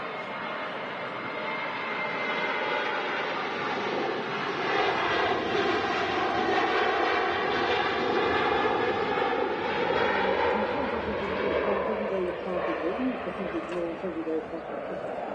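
A Ryanair jet airliner departs Manchester Airport, its engine roar rising and sustaining loud and broad throughout, with a faint voice talking beneath it.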